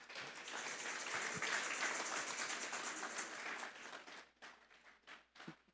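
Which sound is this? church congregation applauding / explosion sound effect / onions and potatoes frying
church congregation applauding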